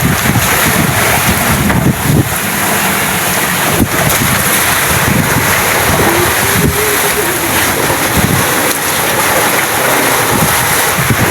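Strong wind roars across the microphone with breaking waves and surging water around a boat at sea, as a storm's eye passes nearby; a loud, continuous rush with gusty buffeting throughout.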